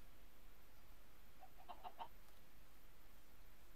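A Minecraft chicken gives a short burst of faint clucks, three or four quick notes over a low steady background hum.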